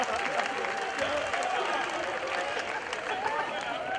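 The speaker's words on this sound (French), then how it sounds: "Applaudissez pour les Ivoiriens s'il vous plaît." Audience applause at a festival show, a steady wash of clapping at moderate distance that holds without a break.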